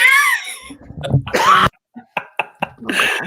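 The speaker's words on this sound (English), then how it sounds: "Didn't mean to make you cough." A few harsh, close coughs and throat sounds in short bursts, separated by brief silences.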